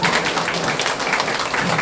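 Church congregation applauding during a Sunday worship service, continuous dense clapping filling the room at even loudness throughout, no voices standing out.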